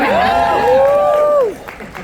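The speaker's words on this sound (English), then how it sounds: "Give me the cheer for the spicy meat." A convention panel audience cheers and whoops with rising and falling voices for about a second and a half, then trails off into a quieter murmur.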